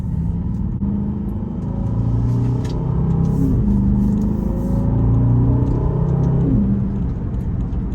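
An Aston Martin DBX 707 engine drones steadily with low rumble, its pitch rising and shifting as the vehicle accelerates through gears, heard from inside the car.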